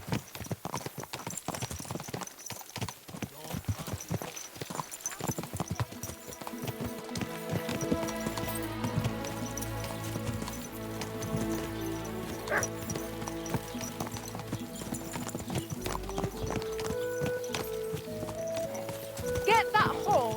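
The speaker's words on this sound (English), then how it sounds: "Get that horse under control." Horse hooves clip-clop steadily in the medieval game Kingdom Come: Deliverance 2, with a neigh and game music rising underneath, while voices talk over the riding.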